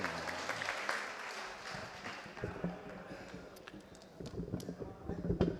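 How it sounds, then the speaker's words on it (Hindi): Applause from a mushaira audience welcoming poet Bilal Saharanpuri at an All India Mushaira in Deoband: scattered clapping rising and falling over several seconds, fairly faint, with talk mixed in. "अरे तालियों के दरमियान इस्तकबाल कीजिए।"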